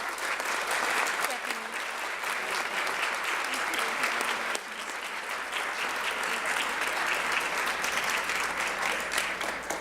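Sustained audience applause at a regional educators awards and scholarship ceremony, a dense, steady wash of clapping from a large room that holds at full strength for the whole stretch with only a brief dip midway.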